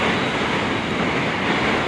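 A KRL commuter train rumbles at Tebet station on the Bogor line, a steady, loud, broadband roar close by with no pauses and no talk.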